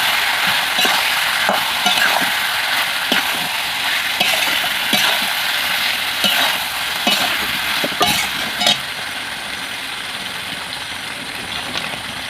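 Desi chicken sizzles in a pan with cumin powder, Kashmiri chili powder and slit green chilies while being stirred, a steady broadband fry with scattered spoon scrapes and clicks, close and continuous, no talking.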